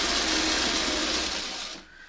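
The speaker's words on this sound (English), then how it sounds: "Let's get this sewn together." A sewing machine stitches pieces of quilt fabric together, running at a steady, even whir for nearly two seconds before stopping abruptly, with no talk.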